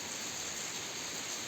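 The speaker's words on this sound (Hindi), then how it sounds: "और देखिए बारिश अब तक भी आ रही है" Steady rain falls continuously during a cold spell, a dense, even hiss with no voices.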